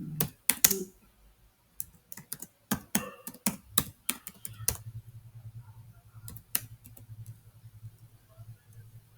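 Typing on a computer keyboard, crisp close key clicks in irregular bursts with short pauses, over a faint low hum.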